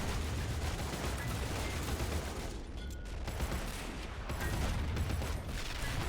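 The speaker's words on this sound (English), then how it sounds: "But the artillery is working it." Artillery fire in a WW1 field battle in Men of War: Assault Squad, a constant rumbling barrage of dense blasts and crackling shots at moderate volume, briefly thinning in the middle before building again.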